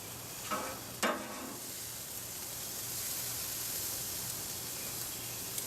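Meat sizzles steadily on olive-oiled grill grates, a constant hiss with a couple of brief sharp clicks near the start.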